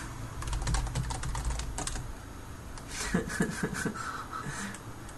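Quick bursts of computer keyboard typing, close and crisp, with uneven clusters of key clicks separated by short pauses and a few louder thuds, set against a faint background tone.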